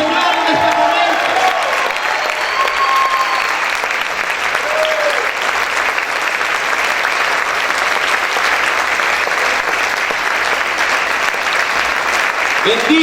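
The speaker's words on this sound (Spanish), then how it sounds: "Dale ese fuerte aplauso al Señor en este momento." A church congregation claps loudly for the Lord during a worship service, dense sustained applause filling the whole stretch with crowd noise and some cheering, while a preacher's voice speaks over it at the start.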